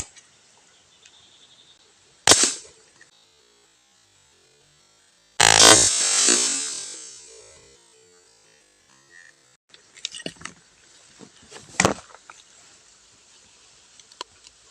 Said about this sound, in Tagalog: Unang putok po mga kanter nitong bagong gawa kong laruan.